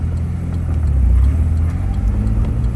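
Heavy trucks driving hard on Mission Highway (Highway 11) between Abbotsford and Mission, a loud, steady low engine rumble close by that swells slightly mid-clip, with no talking.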